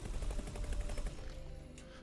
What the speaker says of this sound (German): Wir schießen auf jeden Fall mit drauf.